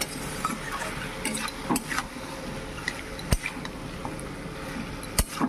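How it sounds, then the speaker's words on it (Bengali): Food being stir-fried and sautéed in a pan with salt added, a steady soft sizzle and scraping broken by a few sharp clinks of a utensil against the pan. "তো এখন আমি ভালো করে এটাকে কষিয়ে তারপরে ঝুল দিয়ে দেবো।"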